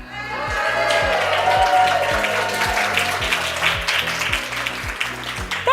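A room full of women at a keynote talk cheers and calls out greetings together, a loud sustained crowd swell over a low, pulsing background beat.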